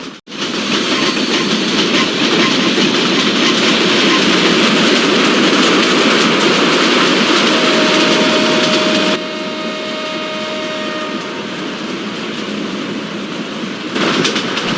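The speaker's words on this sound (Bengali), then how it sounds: "আন্তনগর রংপুর এক্সপ্রেস তুফানের গতিতে Bangabandhu hi tech city railway station through pass করে গেল" In a PC train simulator game, the Rangpur Express rushes through a station, a roaring rumble with rhythmic wheel clatter that drops abruptly partway through and continues more quietly.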